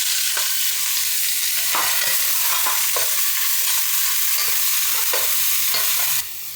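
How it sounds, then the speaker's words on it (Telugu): Sliced onions with curry leaves sizzle steadily in a hot pan with a little oil, the constant frying hiss broken by repeated scrapes and knocks of a spoon stirring, close and loud. "ఉల్లిపాయలు కొంచెం వేగాయి, ఎర్రగా వేగవలసిన అవసరం లేదు."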